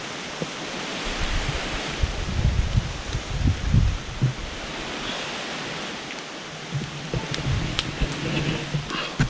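Wind rushes through dry forest leaves in a steady broadband hiss, with gusty swells and rustling crackles rising and falling throughout.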